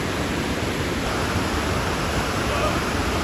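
Rushing water of a stream pours in a steady, loud, continuous wash that fills the whole moment without a break, with no voices over it.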